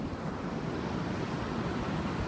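Ocean surf rolls steadily onto a beach lined with ancient dead coral, where surfers ride the waves; a continuous broadband wash with wind noise on the microphone and no talking.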